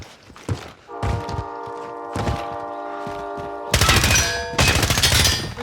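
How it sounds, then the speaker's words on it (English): Gunfire in a video game firefight: rapid bursts of shots and heavy thuds ring out loudly over a sustained tone, with the volleys growing denser and harsher toward the end. No speech. "They're shooting at me!"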